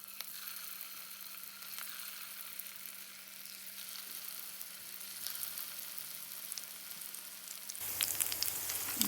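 Aloo tikki frying in hot oil in a pan, a soft continuous sizzle and crackle, close but quiet, swelling louder near the end.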